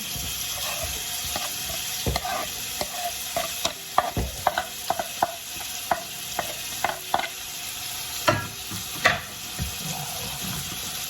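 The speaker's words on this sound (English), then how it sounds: "I'm going to fry up the saltfish at the same time." Jamaican saltfish frying in a pot, a low steady sizzle broken by repeated sharp utensil clanks and scrapes against the pot, close up, with a bit of running water in the background.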